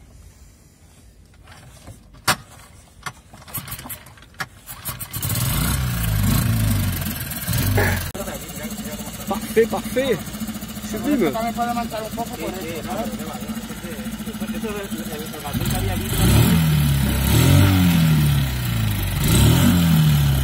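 A new Suzuki outboard engine on a boat's tender starts after a few knocks, then runs and revs with a steady drone that swells again near the end, with people talking over it.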